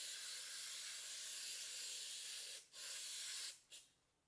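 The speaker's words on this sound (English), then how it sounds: "A little brake clean." Brake cleaner is sprayed onto valve parts from a 1973 Kawasaki Z1 cylinder head. A long steady aerosol hiss is broken by a brief pause, then two short final bursts before it stops. There is no talking.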